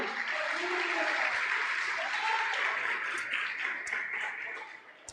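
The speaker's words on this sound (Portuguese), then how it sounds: "se você crê, aplauda a Jesus nesse lugar" A church congregation applauds together in sustained, dense clapping that fills the room, steady and loud before tapering off near the end.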